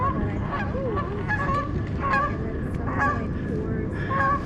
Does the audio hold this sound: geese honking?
yes